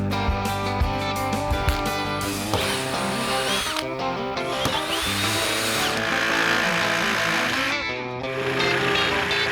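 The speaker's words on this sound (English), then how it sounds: "drilling these, I always start with a smaller hole than you need so that you can then upsize it to the final dimension" A power drill whines steadily at close range, boring pilot holes that are then enlarged for a Harley-Davidson Tour-Pak mount, its pitch shifting and bogging as the bit bites, with brief pauses between holes.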